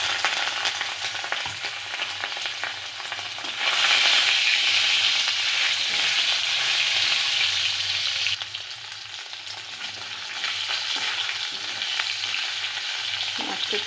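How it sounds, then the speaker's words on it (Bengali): Rohu fish fries in oil tempered with whole black mustard seeds, giving a dense, continuous sizzle that swells louder partway through and then settles. A few light stirring scrapes sit under it, close up, with no voices. "মাছটা একটু হালকা ভাজবো।"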